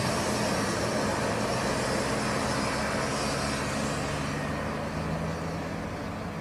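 Car engine running steadily inside a moving vehicle with Ma Eri at the wheel, a loud constant rumble and road noise with no breaks.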